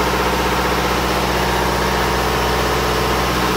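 An Onan DJC diesel generator runs steadily at a loud, constant drone, a close and unbroken engine rumble with no speech.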